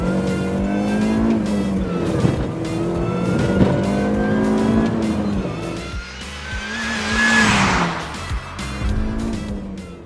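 A modified Mini Cooper S R53 with a supercharged 1.6-litre engine drives at close range, its engine note rising and falling steadily, with brief tyre squeal midway through.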